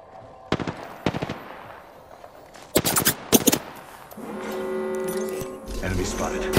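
Gunfire in the video game Apex Legends cracks out in several tight bursts of rapid automatic shots, loud and close, followed by a steadier rumbling of game noise with talking over it.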